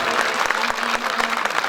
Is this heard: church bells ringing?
no